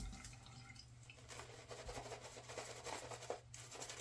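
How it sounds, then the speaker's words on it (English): A little water dripping and trickling into shaving lather as a glycerin soap is worked with a brush, soft wet rubbing and light splashes up close, quiet with no talking. "Get a little water"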